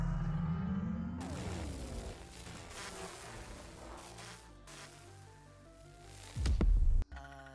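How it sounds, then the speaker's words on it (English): A distant explosion rolls out in the video game Grounded, a long low rumble with a swelling, sweeping tail, then a brief heavy thud near the end. "Something that sounded like a big far-off explosion?"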